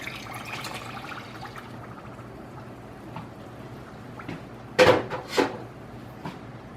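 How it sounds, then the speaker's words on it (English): White vinegar is poured into granulated sugar in a saucepan for cucumber relish. A brief splashing pour comes about two-thirds of the way through, with quiet kitchen room tone before and after. "To that, I'm adding 3 cups of white vinegar."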